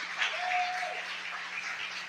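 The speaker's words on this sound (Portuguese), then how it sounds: "Você pode louvar a Deus pela vida da irmã Patrícia com as suas palmas?" A church congregation claps in praise for a sister in the church. The applause is continuous and moderately loud, heard as a diffuse mass of hands in a reverberant hall, with a faint sustained tone underneath.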